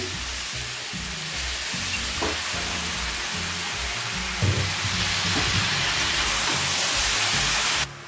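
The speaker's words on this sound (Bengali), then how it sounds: "সব সবজিগুলোকে একসাথে এবার 2 থেকে 3 মিনিট একটু ভালো করে ভেজে নেব।" Mixed vegetables and cabbage fry together in a pan for a vegetarian cabbage dish, making a steady, close sizzle with occasional stirring clatters and scrapes, and no voices.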